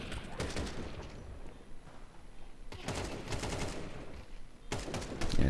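Rapid bursts of gunfire in bunches, with a headshot landing, during a competitive esports shooter playoff match at a LAN event in Prague; the shots come in three separated volleys under steady background game noise.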